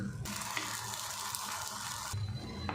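Wheat dosa sizzling steadily on a pan over a low flame, a continuous close frying hiss with no voices, briefly dropping and resuming near the end.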